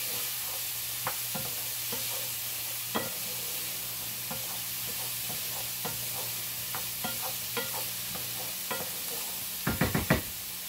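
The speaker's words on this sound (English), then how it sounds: "I'm just going to let this fry up until the onion is translucent." Onion fries in a pan with a constant sizzle and crackle, while a utensil stirs and taps against it in scattered scrapes and knocks, ending in a quick burst of clinks.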